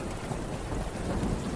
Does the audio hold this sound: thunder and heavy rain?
yes